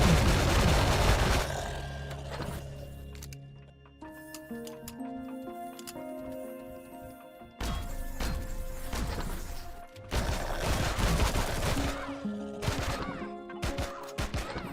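Turret gunfire in the sci-fi survival game Empyrion: Galactic Survival, loud sharp blasts and crashing impacts in dense bursts at the start and again later, separated by quieter stretches of game music.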